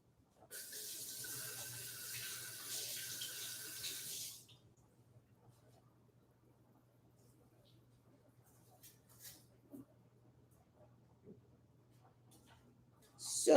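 Italian parsley rinsed under a running kitchen tap, a steady close hiss of flowing water for about four seconds that then stops, leaving a quiet room with faint low hum and small handling noises.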